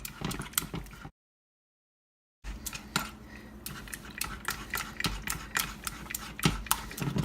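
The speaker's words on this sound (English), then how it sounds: "Stir in together, break it up, break it up." A spoon stirs and clinks against a bowl as xanthan gum is worked into a raspberry yogurt popsicle mixture, giving close, repeated scraping taps that stop briefly in a gap partway through.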